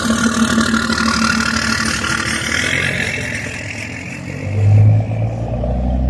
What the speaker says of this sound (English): His truck sounds good.